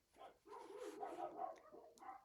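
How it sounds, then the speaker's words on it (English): Several pet dogs bark and yip indoors at low volume, a busy run of overlapping barks in the background. "Can you hear my dogs?"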